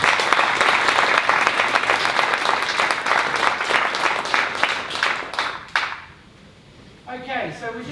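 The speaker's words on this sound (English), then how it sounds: "Do we have a round of applause for our 3 presenters?" A room of people applauding three presenters at a community meeting, dense clapping for several seconds that stops abruptly, followed by quiet and then a voice starting to speak.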